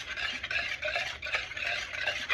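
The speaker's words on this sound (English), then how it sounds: "and whisk and whisk, whisk. You want to whisk. You want it all mixed on up in there." A whisk beating liquid batter in a bowl, rapid rhythmic swishing and tapping strokes, close and steady with brief dips between bursts.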